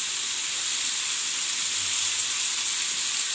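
Chicken frying in a pan for dhaba style butter chicken, a steady, even sizzle and hiss that holds at the same level throughout with no talking.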